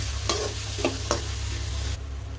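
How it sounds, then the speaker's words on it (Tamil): Onions sautéing in a pan for prawn kulambu, giving a steady close sizzle with a few spoon scrapes as they are stirred, over a low constant hum. "வெங்காயம் வந்து நம்ம நல்லா வந்து வதக்கி விட்டுறணும்."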